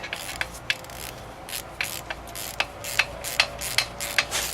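A ratchet turns out an E12 starter bolt on a BMW M52 engine being stripped from an E36, with quick repeated clicks of the pawl in uneven strokes, close and clear with no talk.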